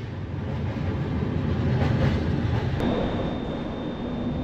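Howrah–Bengaluru Duronto Express (12245) running at speed, a steady loud rumble of wheels and carriage noise throughout, with a thin high tone appearing near the end.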